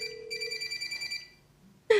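A telephone rings with a steady electronic ringtone for over a second, then fades, and a sharp sound cuts in at the very end; no speech is heard.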